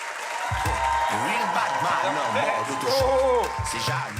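Audience applause and cheering for a comedian at the close of a Moroccan comedian's stand-up show, running under a loud amplified voice speaking over the crowd.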